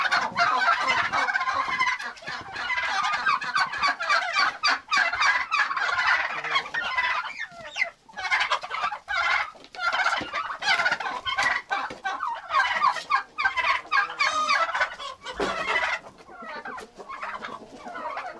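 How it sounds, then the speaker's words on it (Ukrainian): Turkeys gobble and cluck in a steady, busy chorus in a farmyard, close by, an adult turkey driving off a younger one, calls overlapping continuously throughout and no talking. "дорослий індик відганяє молодого, якого я з того вольєра пригнала"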